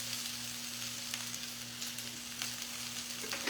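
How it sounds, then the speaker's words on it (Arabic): Eggplant fries in hot oil in a home kitchen, a soft, continuous crackling sizzle with scattered pops over a low steady hum, close but fairly quiet. "خصوصا لو هتقلي بقى كمان بقى مثلا اكتر من بتنجانتين"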